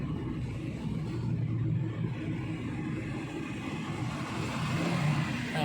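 A car drives along a road by a temple in Vadipatti, Madurai, giving a continuous close engine and tyre rumble with no break and no talking.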